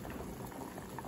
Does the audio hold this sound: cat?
no